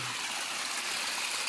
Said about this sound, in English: We're here by a little waterfall